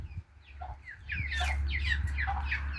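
Young chicks on their first outing into a farmyard give quick, high peeping clucks in overlapping bursts over a steady low background hum.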